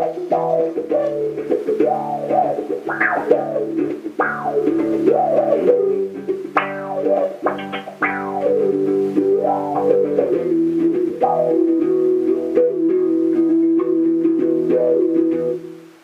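Low notes on a bass guitar run through an auto-wah effect, each plucked note swelling with a vocal, sweeping filter and ringing out over about sixteen seconds, with no talk.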